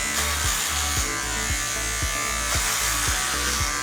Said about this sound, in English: I'm starting with my clippers with the 22 millimeter guard on, and I'll just start at the top